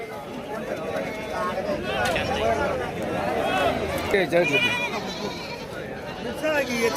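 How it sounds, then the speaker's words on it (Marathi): Goats bleating at a busy livestock market in Shirur taluka, Pune district, several nearby animals calling repeatedly over constant talk and crowd murmur. "एक शेळी गाभण एका शेळीला दोन पिल्ले आहेत"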